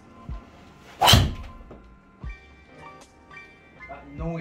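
A 2022 Srixon ZX5 or Cleveland XL driver with a Ventus Velocore Black shaft strikes a golf ball once, giving a single sharp, loud impact with a brief ring, followed by faint clicks and light movement.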